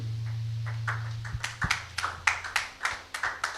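A church congregation applauding, starting as scattered claps over a steady low hum, then settling into sharp rhythmic clapping in a quick regular beat.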